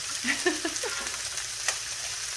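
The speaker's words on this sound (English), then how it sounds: "Now we're gonna cook some egg here." Eggs frying in a hot pan for duck fried rice, a close, steady sizzle with a few brief pops and spatters over a couple of seconds, no voices.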